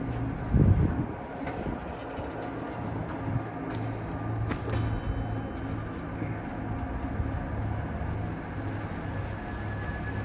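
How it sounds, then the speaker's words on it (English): Diesel locomotives crawl up a grade at about one mile per hour, a heavy, continuous low roar and rumble heard from a moderate distance, with a brief louder burst near the start. "You can still hear the locomotives roaring."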